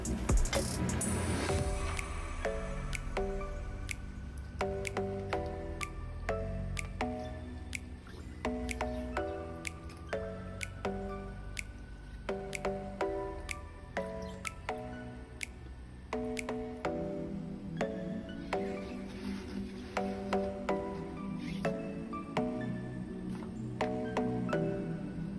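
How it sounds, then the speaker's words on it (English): Fabric swished around in a bath of acrylic paint dye gives soft, close, wet squishing and dripping sounds in an irregular rhythm, with faint clicks over a low background hum. "make sure you're taking your time with swishing the fabric around"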